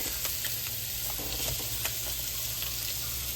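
Blackened fish fries in butter in a pan right after being flipped, giving a loud, continuous close-up sizzle with crackling pops and no talking.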